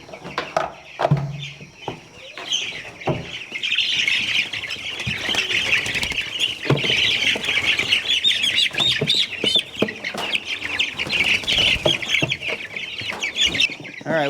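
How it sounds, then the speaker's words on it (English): Several chickens cluck and squawk continuously, busy and close, with scattered rustling and knocks throughout. "All right, we got a bucket full of chickens."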